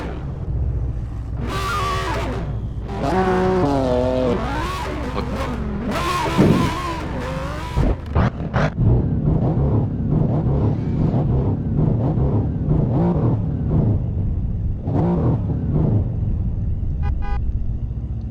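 A Mercedes C63S AMG W205 launching in an Assetto Corsa drag race: loud engine revving with rising gear pulls, then a sustained roar as the car accelerates.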